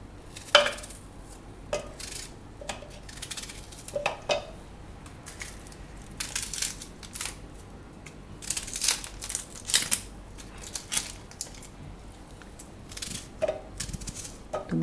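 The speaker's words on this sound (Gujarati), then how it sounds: "તો બધી ડુંગળી આ રીતે આપણે ટુકડા કરીને મિક્સરમાં લઈ લેવું." An onion is chopped into pieces by hand for a mixer jar in a home kitchen, with scattered sharp knife clicks and crunchy cuts, close and moderately loud, spaced irregularly with a busier stretch in the middle.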